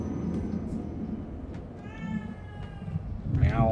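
In the video game The Evil Within 2, a cat meows a few times near the end, over a rumbling ambient bed.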